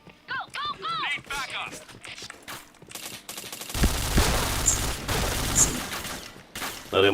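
Rapid bursts of video game gunfire crackle through a fast match, dense volleys in the second half, with excited players talking over the shots.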